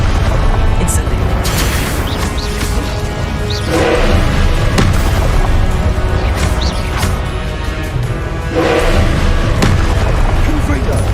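Spell blasts in the video game Hogwarts Legacy, a series of booming impacts and bursts spaced every second or two over a loud rumbling backdrop, with a voice repeatedly calling out spell names between them.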